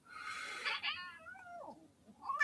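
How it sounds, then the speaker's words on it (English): A cat lets out a drawn-out, agitated meow followed by a sliding caterwaul, close and fairly loud against a quiet background. "The cat's pissed off."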